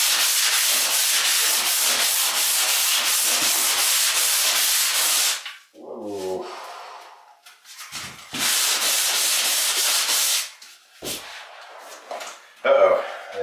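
Steady, rapid scratchy rubbing of hand sanding with a sanding screen, loud and close, stopping briefly midway with some handling noise before the sanding resumes.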